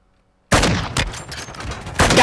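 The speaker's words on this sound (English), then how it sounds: "Just turn around and shoot." Loud, close automatic gunfire from Warzone 2 bursts in after a brief silence, a dense rattle of shots that dips briefly and then surges again.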